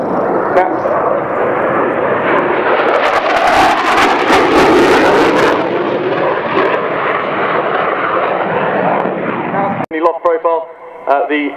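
Military jet aircraft at the RAF Waddington Airshow 2011 roar loudly and steadily, close and powerful, then cut off abruptly near the end. Brief commentary or speech follows the cut.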